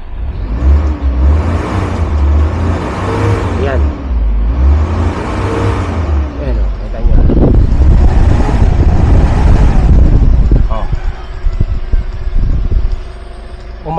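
A 28-year-old van's engine revs up loud and close, rising from a steady idle into a strong surge around the middle before easing back to a quieter idle, with no talk over it.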